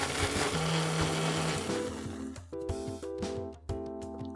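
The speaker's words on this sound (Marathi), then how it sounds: "आता ह्याच्यातली मिरची, टोमॅटो आणि आलं आपण बारीक वाटून घेऊया" A blender grinds chili, tomato and ginger in a dense whirring roar that later turns into pulsed bursts with brief pauses between them, close and continuous.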